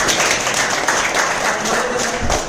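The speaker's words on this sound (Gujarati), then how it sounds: "જોરદાર કિરણભાઈ માટે તાળીઓ" Audience applause at a business meeting honouring Kiranbhai Rathod from Dholka, a dense, steady patter of clapping filling the room throughout, loud and continuous with no break.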